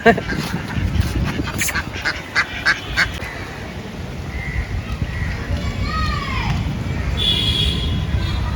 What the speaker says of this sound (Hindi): बत्तख है ना।